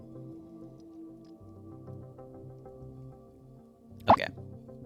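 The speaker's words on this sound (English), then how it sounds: "Also, squeaked my mic, I'm sorry. Brushed against my water glass." A microphone brushing against a water glass at a desk, a single brief squeaky scrape-and-knock, close and fairly loud against a low, steady background hum.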